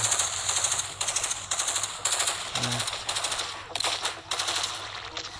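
Rapid automatic gunfire in the video game State of Survival, dense rattling bursts repeating almost without pause, loud and close.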